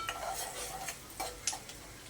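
Sliced onion and garlic cloves sizzle in hot oil while a metal spoon stirs and knocks against the pan, giving soft close scrapes and clinks over a steady frying hiss.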